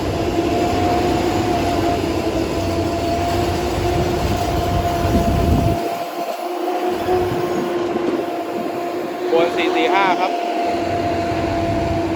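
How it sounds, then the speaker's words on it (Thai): Thai passenger train 445 from Chumphon toward Hat Yai Junction pulls into Ban Thung Pho Junction station, its steady rolling rumble and hum filling the scene, with a brief high squeal near the end while someone talks over it. "เป็นขบวน 445 จากชุมพรไปทางชุมทางหาดใหญ่ครับ ำลังเข้าสู่สถานีชุมทางบ้านทุ่งโพ"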